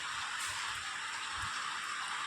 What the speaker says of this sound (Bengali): আকাশটা পরিষ্কার কিন্তু অঝোরে বৃষ্টি হচ্ছে